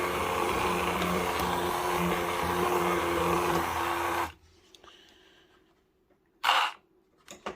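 A food blender blitzes ingredients in a home kitchen, a loud, steady whirring roar for about four seconds that cuts off abruptly, leaving quiet clinks and a brief rustle.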